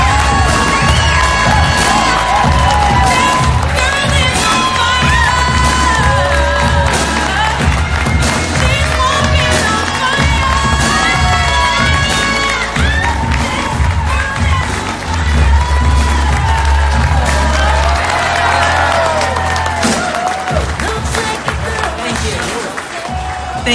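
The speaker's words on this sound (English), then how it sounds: "Please join us for a big round of applause for the world's most beloved genie" A big audience gives sustained applause with cheers and whoops for Barbara Eden, loud and continuous, with music and voices threaded through.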